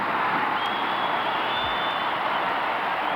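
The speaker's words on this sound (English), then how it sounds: "as you hear the response of the crowd" A large stadium crowd at a 1983 CFL Western Final football game, Lions versus Blue Bombers, gives off a dense, steady roar of cheering and noise that holds loud and unbroken throughout.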